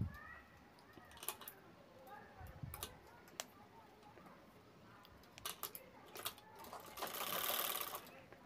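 A sewing machine stitching a fabric jewelry bag runs in short intermittent bursts with scattered clicks and ticks, and ends in a louder, sustained stretch of stitching.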